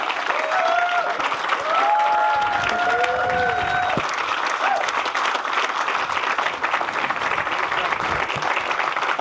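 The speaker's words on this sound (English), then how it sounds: "Big round of applause for that" An audience at a Boys & Girls Club capital campaign event breaks into sustained applause, a dense, steady roar of clapping with a few voices and whoops rising over it.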